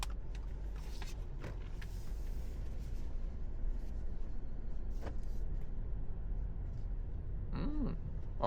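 A 2026 Subaru Crosstrek e-Boxer hybrid with a 2-litre engine and electric motor assist drives along at a steady, even hum of road and cabin noise, with a few brief clicks and a short whine near the end.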